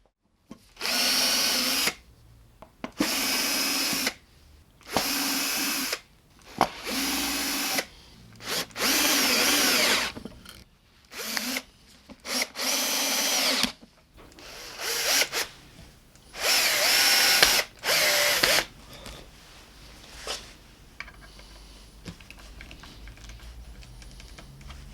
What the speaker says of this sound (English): I'll carry on putting the rest of the screws in, and then we put the strap locks on